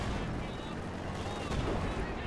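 Artillery bombardment in the strategy game Company of Heroes 2, a dense continuous roar of booming shell impacts and gunfire, with a commentator talking over it.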